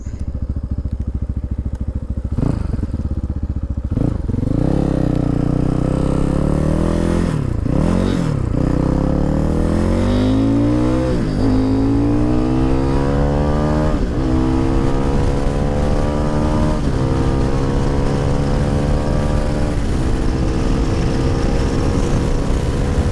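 A Cross Country 300 motorcycle accelerates hard at close range. Its engine note climbs through several gear changes, with brief dips at each shift, and stays loud and continuous for about twenty seconds with no speech.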